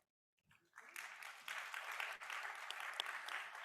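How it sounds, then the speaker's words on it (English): An audience at a panel event on global challenges breaks into applause, a full steady clapping that swells after a brief quiet start and carries on without letting up. "A big clap for you."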